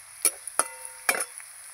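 Chopped green chili hits fried onions in a hot pan, giving three short bursts of sizzling and stirring, each crackling briefly and fading to quiet between, close and clear with no talk.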